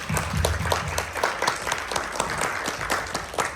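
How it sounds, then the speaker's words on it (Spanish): Applause from an audience after a talk, a small group clapping with distinct overlapping claps at close range, steady throughout. "Un fuerte aplauso."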